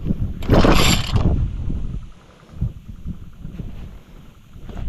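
A boat engine rumbles low and steady close by, with a brief loud rushing burst near the start before settling back to its chugging drone.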